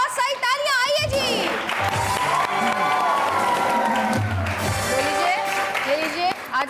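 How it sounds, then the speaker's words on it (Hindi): A studio audience at a TV show breaks into applause and cheering, with dense clapping and excited shouts running for several seconds, some voices rising above the crowd before it thins out at the end. "तो जी सबसे पहले हमारे कपल नंबर 1 के लिए बहुत सारी तालियां।"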